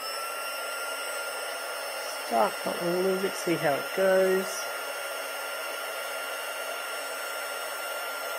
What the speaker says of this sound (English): So let's try it with the heat gun